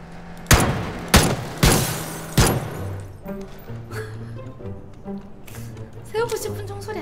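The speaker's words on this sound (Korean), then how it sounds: "총소리 아니야?" Four sharp, loud pump shotgun blasts ring out in quick succession in a video game on the Taego map, followed by lower rumbling game sounds while people talk.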